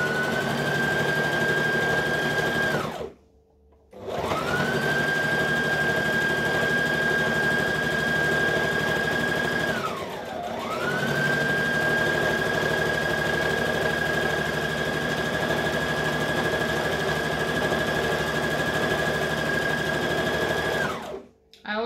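A domestic sewing machine stitches a seam on a Vogue 9345 garment in long, steady motor runs, pausing briefly twice and slowing once before resuming at a constant pace, close and clear with no talking.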